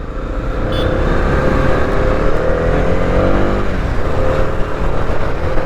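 A 2022 Honda CB300R motorcycle engine accelerates hard through its gears, a loud, steady, rising engine drone heard up close while riding.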